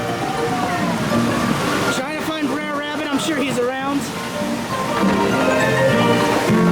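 River water at Disneyland keeps up a steady rushing, splashing wash throughout, with someone talking over it in the middle.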